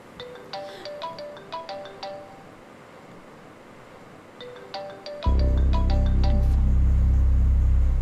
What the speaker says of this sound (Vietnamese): Anh nghe điện thoại một chút nha.